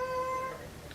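A pet cat meows once indoors in a room where someone is knitting, a short, fairly clear cry that tails off, alone without talk.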